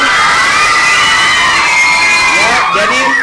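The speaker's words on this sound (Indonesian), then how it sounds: "Tepuk tangan untuk paslon nomor 1." A crowd of school students cheers and shouts loudly and continuously after a student council candidates' debate, excited voices and whoops filling the room throughout with some talking mixed in.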